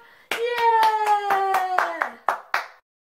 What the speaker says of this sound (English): Are you ready for a big clap?